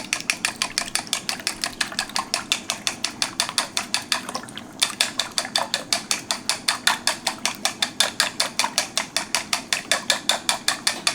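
Eggs with Chinese chives beaten in a bowl, a fast, even run of crisp whisking clicks that pauses briefly and then resumes at the same brisk pace.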